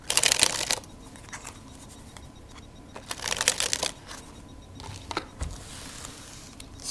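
A deck of Bicycle playing cards is dribbled, giving short fluttering bursts of rapid card slaps with soft handling rustles between them, close and fairly quiet, with no voices.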